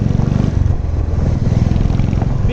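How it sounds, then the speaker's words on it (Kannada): A used Royal Enfield Classic 350 BS4 motorcycle with its single-cylinder engine running close by, a loud, steady low thumping throb that lasts the whole moment, with no rise in revs. "BS4 royal Enfield classic 350"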